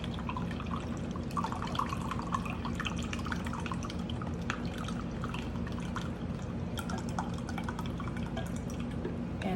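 Beef broth is poured into a slow cooker in a home kitchen, a soft, steady trickle and splash of liquid heard close up with no talking.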